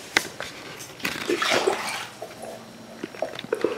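Water splashes and gurgles as 1.5 cups are poured into a medium saucepan of sugar for Turkish delight, a brief burst in the middle with small clinks and knocks around it.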